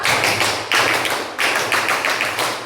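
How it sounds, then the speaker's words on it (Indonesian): Indonesian scout-style rhythmic group clapping (tepuk pramuka) in a classroom, loud and close, with bursts of claps repeating in a patterned beat and no talking over them. "tepuk pramuka."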